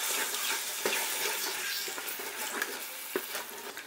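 About 150 ml of yogurt being stirred into a sizzling paneer biryani masala in a pan: a continuous hiss with scraping and occasional wet clicks from the spoon, close and steady.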